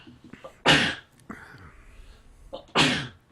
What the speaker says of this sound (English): Somebody hit me with a sneezing potion spell.